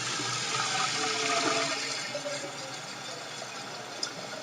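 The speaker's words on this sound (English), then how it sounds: "fun to listen to the water as it pours." Water pours from a tap into a big pot in a kitchen, making a steady rushing stream that eases slightly in force partway through, close and fairly quiet, with no talk over it.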